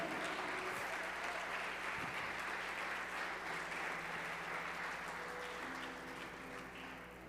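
A church congregation claps together during a Sunday service, a faint, continuous patter of many hands heard from a distance that holds steady and eases slightly toward the end, with no speech over it.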